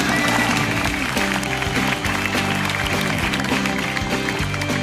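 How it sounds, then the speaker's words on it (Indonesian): An audience applauds at a stand-up comedy show, a dense clatter of clapping that blends with loud music playing throughout, with a voice briefly heard. "Sekali lagi tepuk tangan buat semuanya juga nih"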